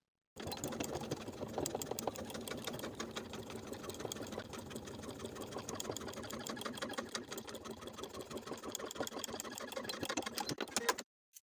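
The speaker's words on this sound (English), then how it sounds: "we're going to sew from dot to dot in the same way with the same 1/4 inch seam allowance" A sewing machine runs steadily while stitching a coat pocket facing on a lined coat, a continuous close rapid whir with fine needle clatter and a brief stop at the end.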